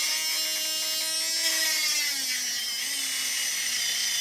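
A welder buzzing steadily while running a bead, a sustained high whining hiss with a slowly drifting tone, continuous and close for several seconds with no talk over it.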